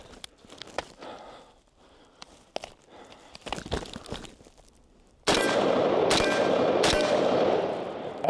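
Rifle shots from a magazine during dummy-round drills crack out as sharp, sparse reports over quiet handling, then a louder, denser burst of fire takes over in the second half.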